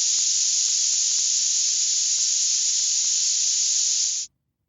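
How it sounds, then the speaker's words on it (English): A steady, dense hiss of broadband noise plays at an even level for about four seconds, then stops abruptly into silence. "It's pure noise."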